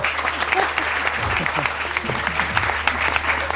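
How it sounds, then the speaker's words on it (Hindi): Studio audience clapping steadily throughout, a dense, close burst of applause from a seated crowd, with a voice speaking briefly beneath it. "आप लोग तालियां बजा सकते हैं।"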